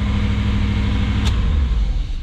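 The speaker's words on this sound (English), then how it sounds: "There goes the old high idle." A 1980 Mercedes-Benz 450SLC engine runs at a high idle, a steady, loud, droning hum with an even tone and one brief sharp tick partway through.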